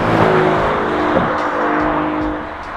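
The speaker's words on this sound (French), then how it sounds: "Si on accélère, là il n'y a pas de problème, on en a bien 12, on les entend, ils chantent, malgré les turbos." An Aston Martin DB11's twin-turbo V12 revs loudly and steadily up close, a continuous full-throated roar that eases slightly toward the end.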